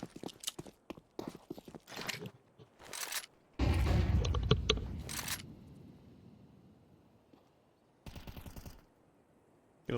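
Gunfire in a Counter-Strike match comes in clusters of sharp shots, an early string of quick bursts, a long loud spray in the middle that trails off, and another short burst later, separated by quiet gaps.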